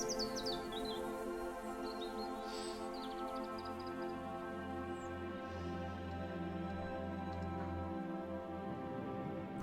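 Seagulls calling overhead in the Hindsight video game, a series of faint, high cries scattered over steady low ambient tones and a soft background hum.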